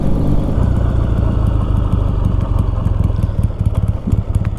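A barn-find Triumph T140 motorcycle cruising on quiet back streets, its engine running steadily with a low, throbbing rhythmic pulse and some clatter, loud and close throughout, with no talking.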